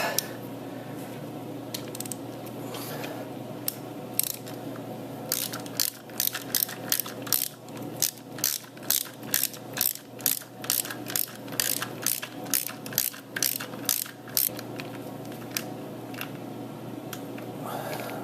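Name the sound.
ratchet tightening a part on a Harley Dyna motorcycle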